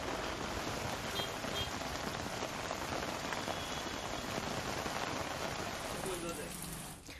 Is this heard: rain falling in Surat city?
yes